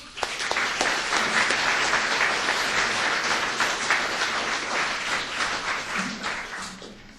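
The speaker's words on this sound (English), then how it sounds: "give a round of applause for Connie Fogal." Audience applause for a speaker at a public talk, steady dense clapping from many hands filling the room for about seven seconds before tapering slightly at the end.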